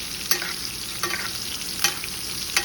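A reverse-seared steak sizzles in a pan while being basted with butter, a steady close sizzle broken by four sharp spoon clicks against the pan at regular intervals, with no voices.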